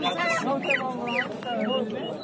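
Chickens cluck in a poultry market, with several birds making overlapping, rising clucks and squawks nearby, set against steady market bustle and chatter.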